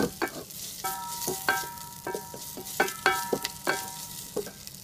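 Precooked beef sautéed in a pan, a close sizzle broken by frequent sharp scrapes and clinks of a spoon stirring against the metal, with no voices.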